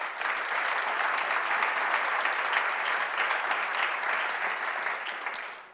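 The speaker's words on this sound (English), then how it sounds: "they deserve a big round of applause" Conference audience applauding the startups before their pitches, a steady, dense wash of clapping from many hands that holds evenly throughout and tapers slightly at the end.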